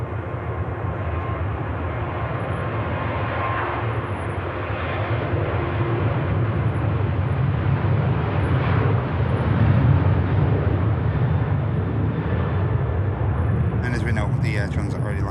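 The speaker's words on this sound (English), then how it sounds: "There goes the Ryanair heading to Rome." A Ryanair jet airliner departs Manchester Airport bound for Rome, a steady loud low engine roar rising slightly mid-way, with a voice talking over it.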